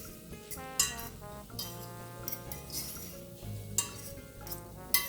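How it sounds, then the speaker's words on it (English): A spoon stirs a pot of red beans with an added hot pepper, giving several light clinks against the pot over a soft sizzle, close and clear with background music and no talk. "we're going to add a hot pepper. Just give it a stir."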